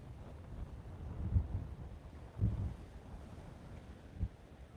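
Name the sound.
wind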